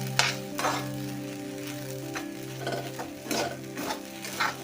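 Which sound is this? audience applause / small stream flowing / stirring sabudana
stirring sabudana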